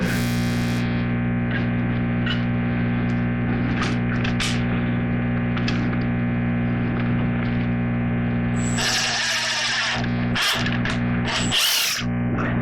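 A power drill drives into a hole in a wooden jewelry box, a loud sustained motor whine with a steady hum beneath, breaking into short stop-start bursts near the end.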